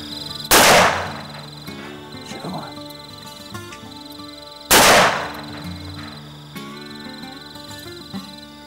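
Two loud shotgun blasts, several seconds apart, fired at a wild turkey gobbler during a morning hunt, each echoing away across open country with birds calling in the background.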